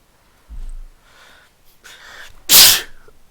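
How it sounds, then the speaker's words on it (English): A person sneezes once loudly and close up, preceded by a couple of sharp intake breaths building to the burst, then a short exhale. "I hate sneezing."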